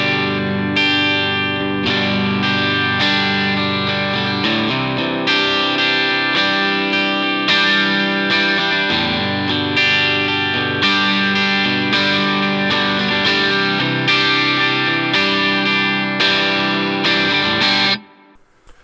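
An electric guitar plays sustained chords through a Vox AC30C2 amplifier with spring reverb, strummed steadily and loud, ringing out with a washy echo before stopping abruptly.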